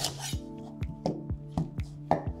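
A large red onion sliced thinly with a knife on a board, about half a dozen crisp, evenly spaced chops close by over a steady low kitchen hum.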